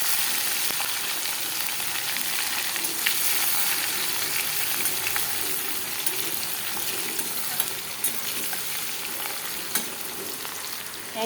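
Bay leaf, whole garam masala and garlic sizzle in hot oil in a pot, a steady, close frying hiss with small crackles and the occasional stir, continuous throughout with no talk.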